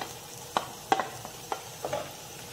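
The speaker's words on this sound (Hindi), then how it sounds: "प्याज को हम हल्का सा सौटे करेंगे।" Finely chopped onion sautéing in oil in a pan, heard as a faint soft sizzle under a few sharp stirring clicks of a utensil against the pan, close and otherwise quiet.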